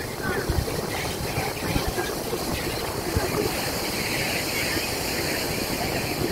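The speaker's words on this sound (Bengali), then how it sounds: "উত্তাল ঢেউ পুরো সমুদ্রে" Rough sea waves wash continuously along Puri beach, a steady wide rumble and hiss with wind noise on the microphone.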